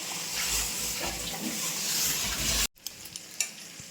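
Cashews frying in hot ghee give a steady, close sizzle with stirring for most of the span, then cut off abruptly and leave a few quieter scrapes and clinks.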